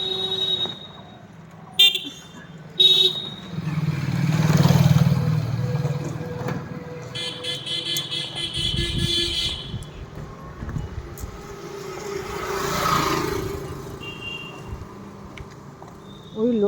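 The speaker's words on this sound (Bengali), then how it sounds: "দেখো গাড়ি চালিয়ে যাচ্ছে, মোটরসাইকেল চালিয়ে যাচ্ছে" Morning road traffic with cars and motorcycles passing one after another, engines swelling and fading at moderate distance, a few short horn toots, and a person talking intermittently over the passing vehicles.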